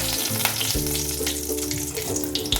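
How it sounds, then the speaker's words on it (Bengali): Mustard seeds sizzling in hot peanut oil in a pan while cooking a vegetarian South Indian paneer dish, a loud, steady crackling fry with faint popping and a low hum beneath, no voices. "অল্প একটু সর্ষে ফোড়ন দিচ্ছি"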